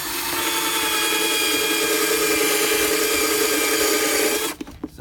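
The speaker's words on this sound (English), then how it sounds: "So I'm gonna take my drill" A power drill bores through a car's interior panel to mount a speaker, giving a steady, loud, rasping grind that runs unbroken for over four seconds before cutting off abruptly, followed by a few brief clicks and knocks.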